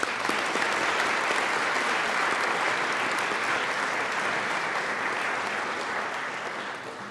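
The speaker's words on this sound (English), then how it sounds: "Let's give another round of applause for the family members here in attendance" A large audience applauds family members in attendance at a legislative opening-day session, a dense, steady wash of clapping held for several seconds before it slowly tapers off near the end.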